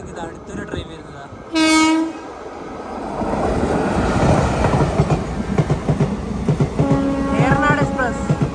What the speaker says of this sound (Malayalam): അത് പോയപ്പോഴത്തേക്ക് ഇത് അടുത്തൊരു ട്രെയിൻ വരുന്നതാണ്.